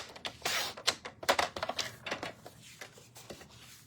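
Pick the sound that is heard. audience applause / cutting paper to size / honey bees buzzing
cutting paper to size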